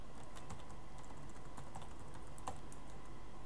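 Typing on a computer keyboard, steady irregular key taps at moderate pace over a constant low background hum, faint and close, with no speech.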